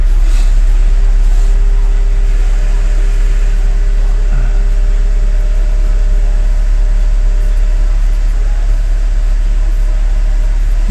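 A Mercedes CLK engine running just after a fuel filter replacement, a steady loud low drone with a constant hum throughout, close and unbroken, no distinct start visible.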